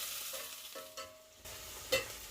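Chopped onions are added to a hot pan and stirred. A soft, faint sizzle is broken by a few light scrapes and knocks, ending with one sharper clatter.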